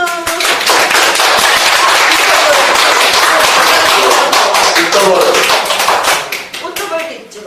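An award ceremony audience bursts into sustained, dense applause, loud and close, holding steady for several seconds before tapering off as voices come through near the end.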